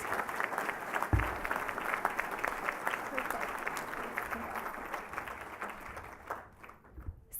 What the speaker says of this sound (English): So let's give them a final round of applause and thank the nominators for taking time to nominate these excellent students.